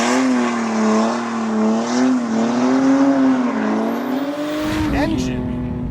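A 400HP turbocharged BMW E30 accelerates hard with a loud, rising and falling engine tone, then breaks into a harsh tire squeal as it slides sideways near the end.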